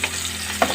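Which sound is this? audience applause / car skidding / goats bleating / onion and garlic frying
onion and garlic frying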